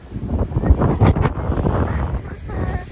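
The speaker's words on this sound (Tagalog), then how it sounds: "Lakas na hangin" Strong wind gusting at Haeundae or Gwangalli beach in Busan with waves nearby, a steady loud rush buffeting the microphone, with a voice talking through parts of it.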